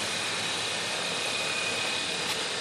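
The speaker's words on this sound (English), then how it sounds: "Alright, we're gonna take this 2013 Hyundai Sante Fe for a drive." A 2013 Hyundai Santa Fe 2.0T Limited AWD engine running, a steady even hum with broad noise and no changes over a few seconds.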